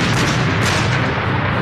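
A massed WWII artillery barrage of over a thousand guns on a desert battle line, heard as a dense, continuous roar of overlapping blasts and rumbling booms, loud and unbroken throughout with no gaps between detonations.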